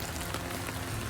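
Steady rain pours down outside on a farm with hail expected, a dense, continuous hiss of drops on surfaces with no pauses, loud and close throughout.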